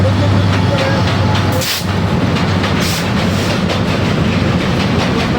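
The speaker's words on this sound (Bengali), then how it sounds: "মালবহন ট্রেনটা কিন্তু খুব বড় অনেকটা বড়" A long freight train passes close by at Ghorashal station, a loud continuous rumble and rattle of wagons that fills the whole stretch without letting up.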